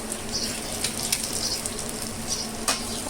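Fish sizzles as it fries on its second side in a pan for a Malvani-style fish fry, a steady hiss of hot oil with occasional sharper crackles and pops throughout, and no one speaking.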